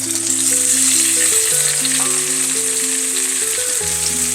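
Garlic, onions and mixed garden vegetables saute together in hot oil in a pan, giving a steady, loud, close sizzle and frying hiss that runs unbroken throughout, with a faint tonal hum underneath and no talking.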